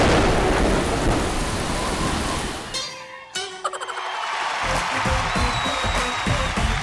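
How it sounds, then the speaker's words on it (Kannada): Heavy rain pours steadily with rolling thunder in a comedy sketch scene; the downpour briefly drops out midway, then a sharp crack and rumble return before the loud rain resumes, with no talk. "ಅವತ್ತು ಜೋರಾಗಿ ಮಳೆ ಬರ್ತಾ ಇತ್ತು."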